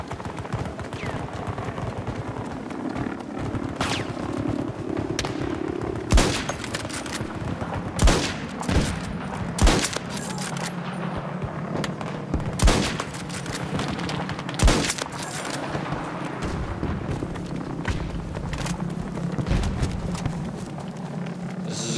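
Rifle gunfire in the video game Battlefield 2042, with repeated loud shots and short bursts over a constant battlefield din.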